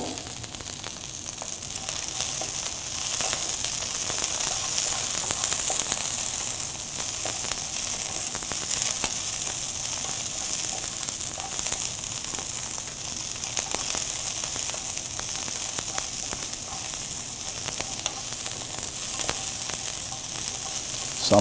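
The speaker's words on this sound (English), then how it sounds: "Some people will call this braising of a cabbage, which you're sauteing it, getting it tender." Roughly cut cabbage sautés in a sauté pan with a steady, close, unbroken sizzle and crackle that runs the whole time, with no talking.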